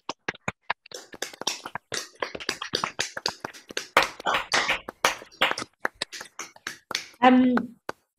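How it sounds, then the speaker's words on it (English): An online audience applauds over Zoom after poets read at an anthology launch, giving scattered, crackly individual claps and snaps that come sparse and uneven, with bits of voice mixed in. "let's have a rather thunderous, crackly, zoomy round of applause"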